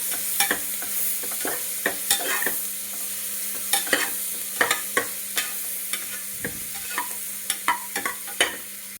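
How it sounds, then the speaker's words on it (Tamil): Onions fry on low heat for a mushroom biryani, sizzling steadily in a pan while a spatula stirs them in quick, regular scraping strokes, close and clear with no talk. "ஆனியன் நல்லா கோல்டன் ப்ரௌன் வர வரைக்கும் நல்லா ஃப்ரை பண்ண போகிறோம்"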